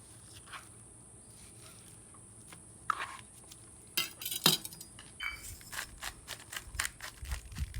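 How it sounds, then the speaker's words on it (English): A knife slices picanha beef into thick steaks on a board, with quiet cuts and sharp clicks and taps that grow louder and more frequent toward the end. No one speaks. "we're going to slice up the picanha into steaks that are about 2 to 3 inches thick."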